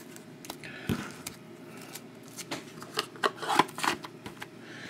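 A deck of trading cards is cut and shuffled by hand at a box break, giving close riffling and flicking rustles that swell in short bursts toward the end, with no talking.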